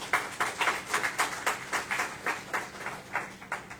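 An audience claps after a harp performance, steady rhythmic handclaps in an even beat, fairly quiet and somewhat distant, with no talking.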